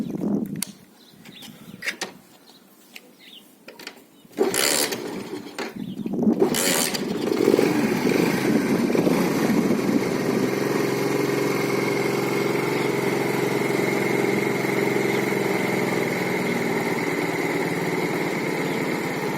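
A repaired, inexpensive Delta moped engine is started after a quiet moment, catching abruptly and then running steadily with a loud, buzzing drone for the rest of the time, close by and with no talk over it.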